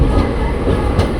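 A train at New Jalpaiguri railway station at night gives a loud, close, continuous rumble with rattling wheel noise throughout.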